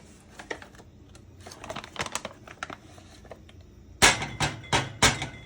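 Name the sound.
spatula scraping sauce out of container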